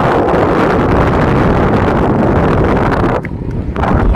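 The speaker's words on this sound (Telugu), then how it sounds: "నా మాటన్నా వినపడుతుందో లేదో తెలియదు కానీ అంత ఘనంగా ఉంది గాలి." Strong gusts buffet the microphone during a motorcycle ride on a dusty road, a loud, continuous roaring rumble that briefly dips before surging back.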